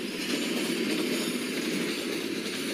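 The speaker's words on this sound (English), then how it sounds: "Twin UBL WDG4 locomotive, which is leading Roro train." Twin WDG4 diesel locomotives haul a Ro-Ro train in the MSTS train simulator, giving a continuous rolling rumble with a broad rail hiss and faint clinks, with no voices.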